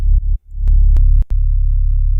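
A plain, monotone synth bass on its own, a low sustained tone broken by a couple of short gaps and sharp clicks, loud and dry.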